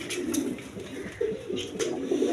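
Pigeons coo repeatedly in a crowded loft of racers and Kaldum birds, soft throaty calls overlapping close by in a continuous, gently pulsing murmur.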